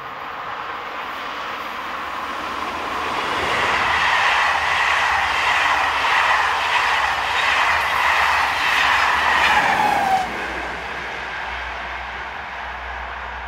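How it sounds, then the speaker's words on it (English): SNCF BB15000 electric locomotive no. 15062, a Normandy engine, passes at La Cormier hauling a Cherbourg–Paris train, a loud rushing roar with rhythmic wheel clatter that peaks midway and then cuts off abruptly, with no talking. "15062 is also a Normandy loco and is seen here at La Cormier with the 1641"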